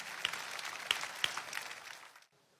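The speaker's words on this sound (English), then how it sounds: "Once again, shall we clap for wonderful Jesus Christ?" Church congregation clapping in praise, a soft, fairly distant patter of many hands with a few sharper individual claps, fading out abruptly after about two seconds.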